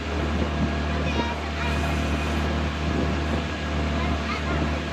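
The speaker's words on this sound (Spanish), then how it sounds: "Este es un viaje en lancha para ir hasta la isla" A motorboat's engine drones loud and steady close by on Lake Suchitlán, with water rushing and splashing against the hull throughout.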